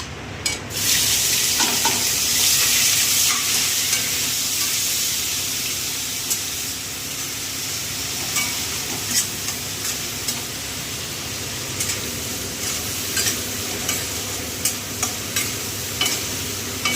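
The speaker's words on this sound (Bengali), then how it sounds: "এবার আমি দিয়ে দেবো চিংড়ি মাছটা" Prawns frying with fried onions in a wok while being stirred, a loud steady sizzle with scraping stir clicks throughout and no talking.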